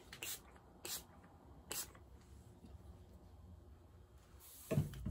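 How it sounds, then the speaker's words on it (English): A dewy setting spray mist is spritzed in short hissing bursts, three quick sprays close to the microphone followed by a pause and a final longer spray with a faint handling knock. "Let me put some my dewy spray on."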